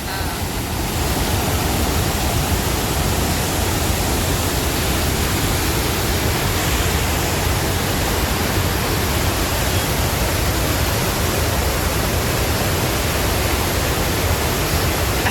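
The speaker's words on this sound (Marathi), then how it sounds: "अंगावर असं मस्त पाणी उडतंय" A constant, loud rush of spraying, splashing water, like a heavy waterfall close by, unbroken from start to finish.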